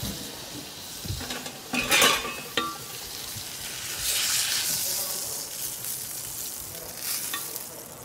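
A ribeye steak sears on a hot grill, a steady broadband sizzle rising and falling, with a few metallic clinks of tongs or utensils against the grate early on.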